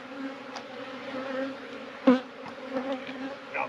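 Honey bees buzzing at a beehive in an outdoor apiary yard, a steady close drone with individual bees whizzing past the microphone, one passing especially near midway.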